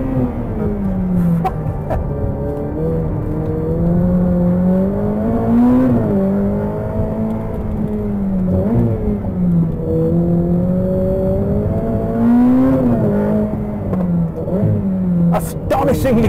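Ferrari F8 Tributo V8 accelerating hard on an Italian road, a loud in-car engine note rising and falling through gear changes over about sixteen seconds, with a voice talking over it.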